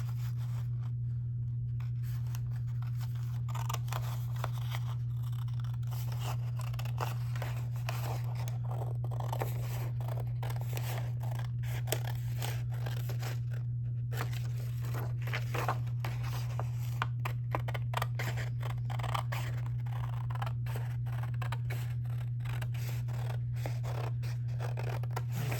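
Repeated snipping of scissors cutting through paper, crisp close-up clicks and crunches coming in irregular bursts over a steady low hum.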